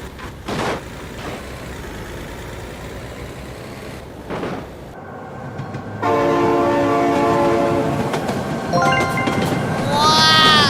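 Train horn blasts and rolling rail noise from a train in the driving simulator BeamNG.Drive, a loud harmonic horn entering midway and sounding again near the end over continuous rumbling vehicle and track noise.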